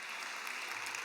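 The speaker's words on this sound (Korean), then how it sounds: "영광의 박수 올려드립니다" Church congregation applauding during a worship service, a steady wash of clapping heard from a distance at low level, continuous and even, with faint speech.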